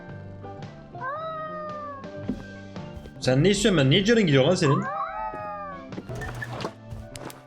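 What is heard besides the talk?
cat meowing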